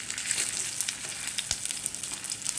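Rava veg cutlets fry in hot oil with a steady, close sizzle and crackle, with a few soft stirring or pan touches near the middle, and no voices.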